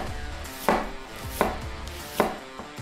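A knife chops onion on a cutting board in three sharp, evenly spaced strikes, each with a short ringing tail, followed by a lighter fourth tap, close and clear with no talking.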